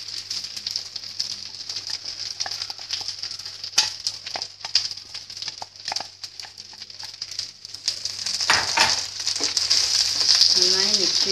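Chopped drumstick (moringa) leaves sizzle and fry in a pan while being stirred, a steady close crackle with intermittent scraping, rising louder toward the end.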